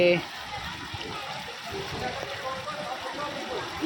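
Flowing water of the Sabarmati river stream, a steady broadband rush and trickle that stays fairly even and moderately quiet throughout, with no voices over it.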